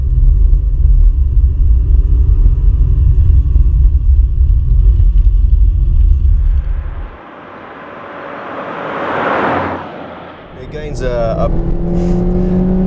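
A Ford Focus engine drones loudly at steady revs from inside the cabin, then drops away briefly before surging back as it accelerates after a downshift, with a voice briefly heard near the end.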